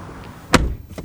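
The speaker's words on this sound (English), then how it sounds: "But yeah, listen to the door again." A used Nissan Frontier pickup truck door shuts with a single solid, close thud, and a softer knock follows a moment later.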